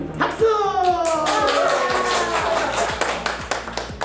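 Several people clap hands in a classroom, a rapid run of sharp claps lasting several seconds, with a voice talking over them.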